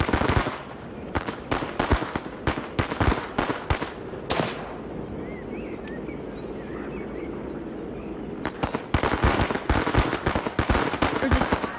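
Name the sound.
firecrackers thrown and exploding in a video game riot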